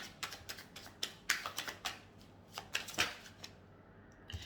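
Tarot cards are shuffled and drawn close up, a run of quick papery flicks and soft slaps in irregular bursts, fairly quiet with no talking.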